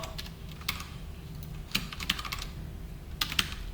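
Quiet, close keystrokes on a computer keyboard while coding a Java text message board, arriving in short scattered bursts and single taps with pauses between them.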